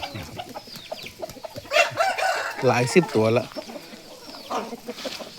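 A flock of young roosters and hens clucks and squawks nearby in a busy, overlapping chorus, rising to louder bursts in the middle, while someone talks over them.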